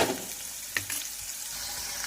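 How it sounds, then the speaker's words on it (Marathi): Onions sizzle and crackle steadily in a hot pan, fried until pinkish brown, with a brief stirring scrape partway through and no voices. "आपला कांदा फ्राय करून झालेला आहे"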